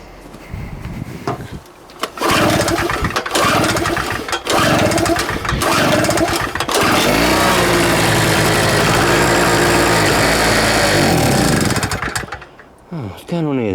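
A petrol generator engine cranks with a few short bursts, then catches and runs loud and steady on full choke for several seconds before cutting out, with voices talking over it.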